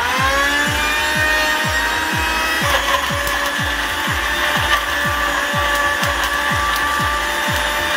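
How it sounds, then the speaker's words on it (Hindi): Mixer grinder grinding roasted chana dal with water for a tamarind chutney, a loud steady motor whine with a rhythmic thumping churn repeating about every half second, continuous and alone without talk. "और अब हम इसको अच्छे से ग्राइंड करेंगे।"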